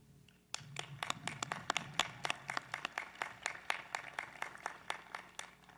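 At Stetson University's 2021 commencement, a sparse audience applauds families, starting suddenly with distinct, separate claps spaced out in a loose rhythm, moderately distant and fairly quiet.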